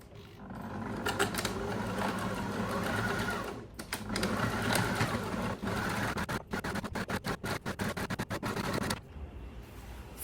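A sewing machine runs close and loud, stitching the inner cover of a laundry basket in long continuous bursts, then short stop-start runs near the end.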